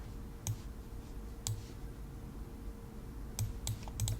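Keys tapped on a computer keyboard while entering a username and password, a handful of light clicks spaced irregularly, with a quick cluster near the end over a steady low hum.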